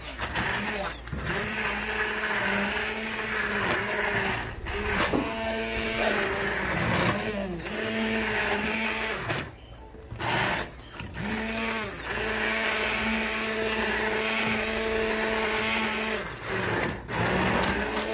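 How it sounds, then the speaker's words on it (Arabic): A hand blender made for hot use whirs through a cooked tomato mixture for muhammara, a steady motorized drone with brief pauses, heard under ongoing talk. "طبعا هذا الهاند بلندر مخصص للشغل على السخن عادي، يعني ما بيأثر عليه."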